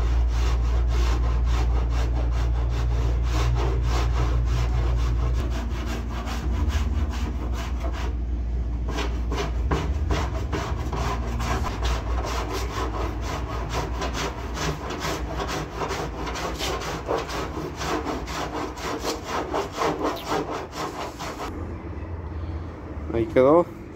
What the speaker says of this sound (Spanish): ahorita le paso la 80 y ya cuesta, casi no cuesta nada lijarlo